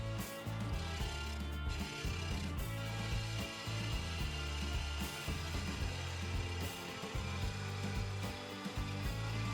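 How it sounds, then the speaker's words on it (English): Wood lathe spinning a segmented bowl while a 3/8 inch bowl gouge cuts, a steady low motor hum with fluctuating scraping and cutting noise, quiet and close, no one speaking. "Back to my 3/8 inch bowl gouge."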